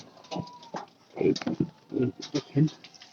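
Soft, low native pigeon coos repeat in short bursts, close by in an enclosed loft, mixed with a person talking.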